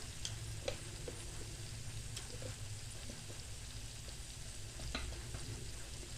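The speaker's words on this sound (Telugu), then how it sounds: "అన్నీ వేసుకొని బాగా కలపాలి" Capsicum curry fries in a pan as salt, coriander powder and turmeric are stirred in, producing a soft, steady sizzle with occasional scraping clinks of the spoon, fairly quiet and without speech.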